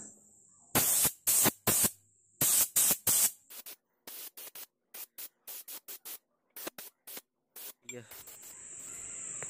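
Spray gun applying 2K paint to the skirt panel of a Proton Saga Iswara, loud hissing bursts in a rapid series of short pulses, then a longer steady hiss near the end; no talk.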